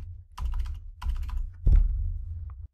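Keyboard typing in three short bursts of clicking keystrokes, close and fairly loud, with a brief pause between each burst and no talking.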